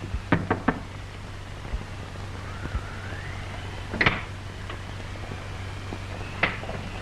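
Knocking on a door in a 1932 old dark house film, scattered single and clustered raps with pauses between them over a steady low hum and faint background noise.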